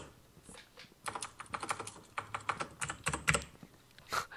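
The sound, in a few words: computer keyboard typing clicks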